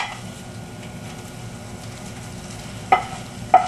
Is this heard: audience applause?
no